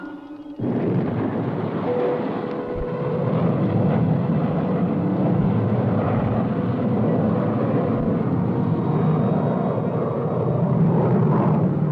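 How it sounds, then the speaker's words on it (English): A science fiction spaceship's retro rockets fire as it reverses to land, giving a steady, loud roaring rumble that starts abruptly and holds for about eleven seconds with a faint whine inside it. "Reversing ship for landing."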